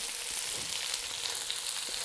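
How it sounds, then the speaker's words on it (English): Sliced onions sauté in a pan for coq au vin, a steady, close hiss and sizzle with faint stirring scrapes, continuous and even throughout, with no voices. "So next up are the onions. And we're going to just saute these long enough"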